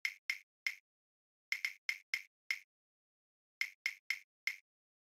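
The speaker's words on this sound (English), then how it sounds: "just like a little percussion sound" Short, bright percussion hits in a melodic house beat, sounding alone in three quick groups of three or four crisp, dry strikes separated by brief gaps.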